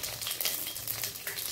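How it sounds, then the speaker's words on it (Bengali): Dried red chillies and cumin seeds sizzle in hot oil in a pan while making an egg omelette curry, a steady, moderately quiet crackle and hiss running unbroken throughout. "এবার এর মধ্যে ফোড়ন দেব, শুকনো লঙ্কা আর জিরে।"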